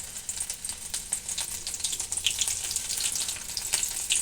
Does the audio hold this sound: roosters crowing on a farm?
no